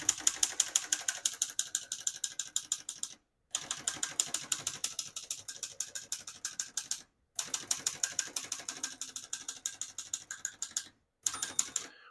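Typing on a 1954 Hermes Rocket portable typewriter: rapid, steady mechanical key strikes in close runs of several seconds, broken by brief pauses, the clacks crisp and near.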